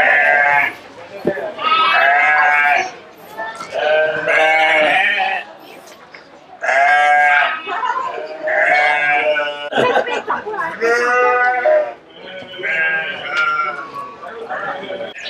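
A goat at a fruit farm bleats repeatedly in loud, close, wavering cries, several calls in succession with short pauses, while people chatter in the background.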